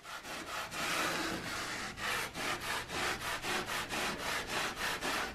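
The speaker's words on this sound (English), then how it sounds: "Just scrub this a bit." Bathtub grout being scrubbed with a brush and homemade cleaner, a quiet rhythmic back-and-forth rasping that speeds into a steady series of short strokes, close and without talk.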